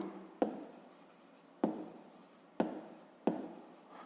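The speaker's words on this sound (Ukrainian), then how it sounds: "Ну і записуємо цифру" A pen or pencil scratches out a handwritten digit in four short, separate strokes, each a sharp scrape that fades quickly, close and quiet, with no talking.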